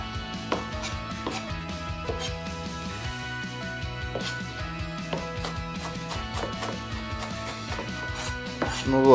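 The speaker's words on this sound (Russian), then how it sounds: "лук я тоже измельчил. Получилось у меня тоже так мелко." An onion is chopped finely with a kitchen knife on a cutting board, giving steady repeated close taps throughout amid light kitchen clatter.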